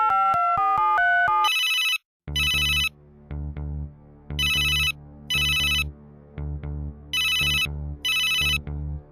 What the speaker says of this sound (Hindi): कंप्यूटर जी, शेरपाल जी के मित्र कादर को फोन लगाया जाए।